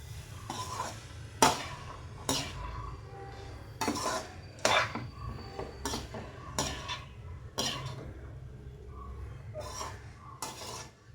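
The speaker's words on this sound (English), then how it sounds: "Then I'll be nicely stirring it up." A utensil stirs onion in a pan with a series of distinct scraping, clinking strokes at an uneven rhythm. A low hum sits beneath them and there are no voices.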